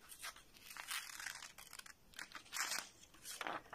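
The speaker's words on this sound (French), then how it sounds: "On ouvre bien les ciseaux et on fait un coup." Scissors cutting paper during a classroom cutting exercise: repeated crisp snipping and crinkling bursts, close but faint, in an irregular rhythm of several cuts.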